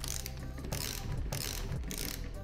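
Fastening the cable holder on a Vespa smallframe engine with a ratcheting tool, giving close, continuous clicking and mechanical rattling over steady workshop noise.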